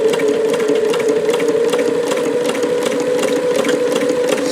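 A Davis Vertical Feed long-needle treadle-style sewing machine runs steadily, fitted with 15X1 needles, producing a continuous loud whirring drone with fast rhythmic needle ticks throughout, close up and with no voices.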